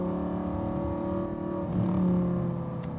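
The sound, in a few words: V10 sports car engine revving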